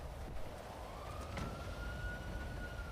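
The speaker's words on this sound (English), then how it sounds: "There was an ambulance just here." In GTA 5, an ambulance siren rises in a slow, steady wail, moderately faint, over a dense rumbling game background.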